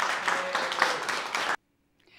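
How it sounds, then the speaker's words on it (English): Steady round of audience applause for a young girl after her piano playing at an Alzheimer's services event, continuous and fairly full, stopping abruptly with near silence following. "Let's give her another round of applause."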